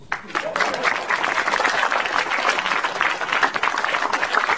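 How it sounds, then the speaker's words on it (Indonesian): A stand-up comedy audience breaks into sustained, dense applause, with steady clapping from a large crowd at a live show filling the whole stretch at even strength. "Tepuk tangan buat saya."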